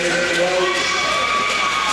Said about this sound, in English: One of the Rapids natives on the team has his cheering section cheering for that one.